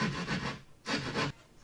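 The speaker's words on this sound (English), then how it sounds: "I follow up with my drywall saw to cut the lower horizontal line" A drywall saw cutting gypsum drywall along a sill plate in a basement, two rough, rasping push strokes close by with a short pause between them.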